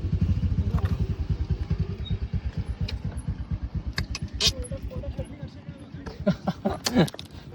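A motorcycle engine thumps with a fast, even idle pulse close by, among many bikers' motorcycles lined up at a hilltop off-road spot near Bolumalai Fort, Krishnagiri. Scattered metallic clinks and jangling break in toward the end.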